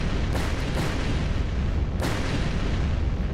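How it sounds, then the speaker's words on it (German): A series of explosions from the video game Purgatory 2: several sharp booms, two close together and one a moment later, each a dense crack over a continuous loud rumbling roar. "A series of explosions destroyed the entrance where we escaped."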